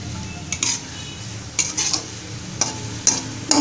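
Vegetables stir-fried over a high flame for egg fried rice give a soft, steady sizzle, broken by a handful of sharp metal spatula clinks and scrapes against the pan, close up.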